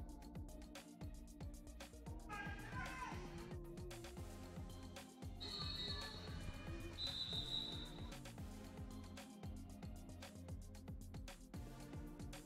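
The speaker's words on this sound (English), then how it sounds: "just before the whistle blew by the Rosebuds" Referee whistles blow during a junior roller derby tournament game, two short shrill blasts in the middle over a busy, reverberant arena din with distant crowd noise.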